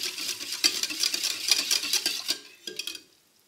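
Tapioca and coconut milk stirred in a pan over low heat, a spoon scraping and clinking rhythmically against the pan in quick close strokes before stopping.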